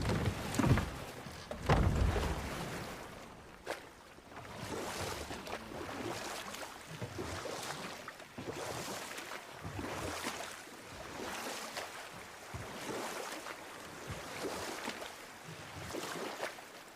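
A boat moves through water in the video game God of War (2018), with lapping waves and a steady wash of wind and spray, some heavier splashes early on.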